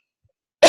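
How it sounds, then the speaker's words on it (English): A single loud, close cough bursts out after more than half a second of silence and runs to the end of the moment. "there's that horrible cough"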